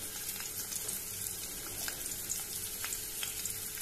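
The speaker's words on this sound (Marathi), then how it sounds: "आतां भितर लसूण घालुया" Garlic fries in hot oil in a pan for Goan-style methi bhaji, a close, steady hiss and crackle with small sputtering pops throughout and no voices.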